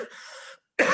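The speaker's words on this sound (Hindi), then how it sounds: "सॉरी थोड़ा खांसी हो गया।" Two close coughs with a short silent gap between them, loud and harsh, with no talking around them.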